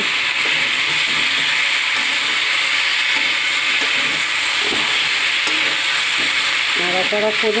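Fish and cauliflower curry being stirred in a hot pan, a loud continuous sizzle with scraping spoon strokes and bubbling, no talking.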